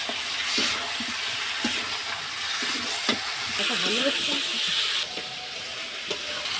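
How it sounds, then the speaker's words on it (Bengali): Pieces of broiler chicken fry in a pan with a soft, steady sizzle, broken by scraping stirs at intervals. A voice is heard briefly in the middle. "দেখে নেব, কষানো হয়ে গেছে, এবারে জল দিয়ে দেবো"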